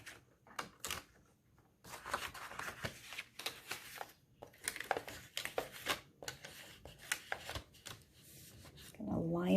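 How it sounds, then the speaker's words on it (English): Paper and cardstock being trimmed for a gift card holder, a steady run of short scraping cuts and slicing strokes with small pauses, close by, with a brief thump at the end. "I'm just going to cut that away like so."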